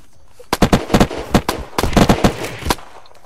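Gunfire in the video game Unturned, a quick string of about a dozen sharp, loud shots in two rapid bursts, close and alone with no talk over it.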